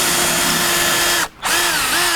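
A 1/4 inch bit drills through a pedal mount on a racing sim rig, a loud steady whine that stops briefly midway, then restarts with rising pitch sweeps as the bit bites again.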